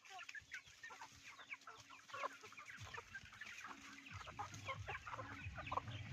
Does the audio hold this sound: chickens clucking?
yes